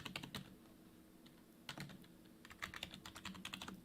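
Typing on a computer keyboard while writing Python code, quiet bursts of rapid clicking keystrokes with a short pause in the middle, close and soft, no voice.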